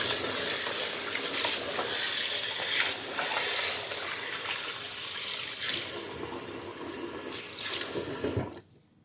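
Goat meat being washed under a running tap, a steady broadband rush of water with splashing surges, ending abruptly when the flow stops.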